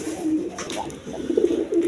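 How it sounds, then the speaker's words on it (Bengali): A pair of Shirting pigeons coos close by, a soft, steady murmur of low throaty calls running through the short stretch with no voices. "দর্শকবৃন্দ, এখানে এক পেয়ার শার্টিং কবুতর আছে"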